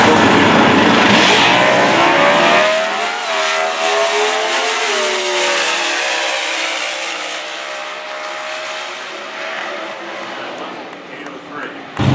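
A COPO drag racing car launching down the strip at a drag race, a loud engine roar and whine rising in pitch and then fading with distance over about twelve seconds, with a brief loud burst at the very end.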